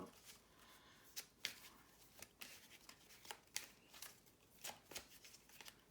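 Tarot cards are shuffled in quick, crisp riffling bursts, close and quiet, with a steady rhythm and no voices.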